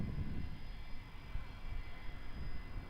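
A Singapore Airlines A350 jet roars steadily through its takeoff run, a broad, low, continuous engine rumble that stays loud and even for the whole stretch, with no voices.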